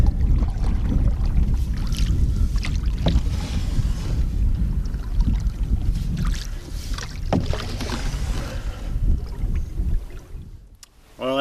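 A canoe paddled across windy water, steady wind rumble and splashing with repeated paddle strokes and knocks against the hull, close and loud throughout, easing off near the end.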